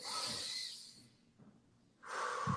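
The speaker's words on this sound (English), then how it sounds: "You're gonna take a deep breath with me." Two deep breaths taken close to the microphone, a long hissing inhale followed after a quiet pause by another strong breath with a snort-like exhale, with no talking.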